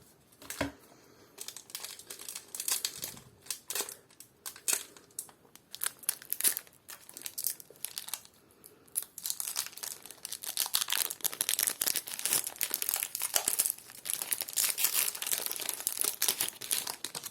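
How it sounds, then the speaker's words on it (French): Pokémon card booster pack foil wrappers being torn open and crumpled from an Eevee Elite Trainer Box, with close crinkling and ripping that builds into dense, continuous rustling in the later half. "Il nous reste donc 4 boosters à ouvrir."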